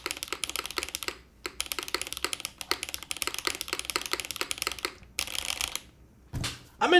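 Rapid typing on a wooden-bodied ergonomic keyboard, close and crisp key clacks in quick bursts with short pauses between runs.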